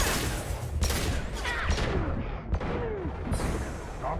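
Gunfire and explosive bursts from the video game Mass Effect 2, dense overlapping shots and booms filling the clip loudly, with no talk over them.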